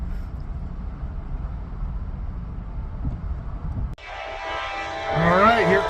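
A CSX mixed freight train at night in high wind and rain: a low, windy rolling rumble, then an abrupt cut to a louder, tonal horn blast that swells near the end.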